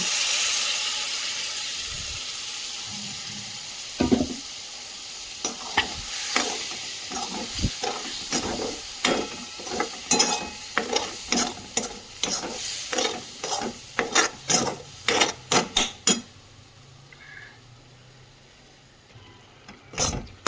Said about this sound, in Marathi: नंतर ग्राइंड केलेलं जे आहे शेंगदाणे आणि थोड्या 2-3 मिरच्या त्या आपण त्याच्यामध्ये टाकू.